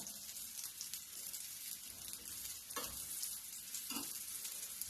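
Fasting dosa batter sizzles steadily in oil on a hot pan, a close, continuous crackling hiss with a couple of brief soft scraping touches.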